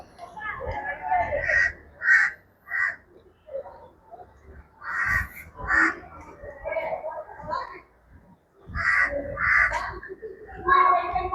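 Crows caw around Uvari St. Antony's church, a coastal shrine in Tamil Nadu: repeated harsh caws come in irregular bursts from several birds, fairly close and loud, with short quiet gaps between them.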